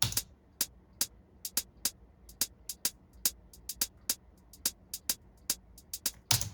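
Crisp hi-hat hits ticking in a bouncy Afrobeats pattern, each followed by quicker echoed repeats from a triplet delay, alone and fairly quiet.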